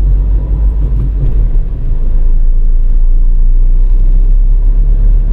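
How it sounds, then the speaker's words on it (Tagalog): Steady low rumble of heavy road traffic on northbound EDSA near Guadalupe, Metro Manila, with engines droning continuously and loudly throughout, no voices present. "Ito ang reality ng buhay ng EDSA. Traffic dito sa lokasyon"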